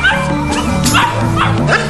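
A dog yips and barks in short repeated bursts over a busy background with music, sounding fairly close.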